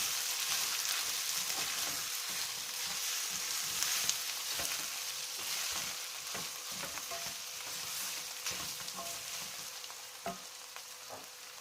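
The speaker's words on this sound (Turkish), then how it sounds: "Bunları birazcık kavuracağım." Meat seasoned with salt, black pepper and chili flakes sizzles and fries in a pan for Şehzade kebab. A steady, soft crackle runs throughout, with occasional stirring clicks and no talking.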